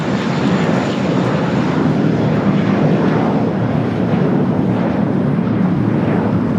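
An Air Canada airliner at LAX produces a loud, steady roar of jet engine noise that holds unbroken throughout, close and continuous, with some wind rumble in the microphone and no talk.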